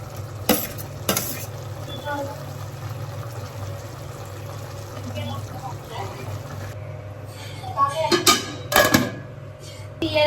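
Tomatoes stirred into a chicken curry in a pan, with scraping spoon strokes, metallic clinks and a soft sizzle, while a person talks over the cooking and the stirring grows busier near the end.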